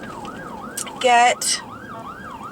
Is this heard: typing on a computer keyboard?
no